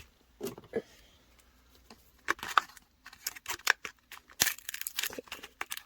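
Scissors snipping and paper crinkling nearby while assembling a miniature toy soda machine, a run of irregular sharp cuts and rustles after a few quieter handling sounds.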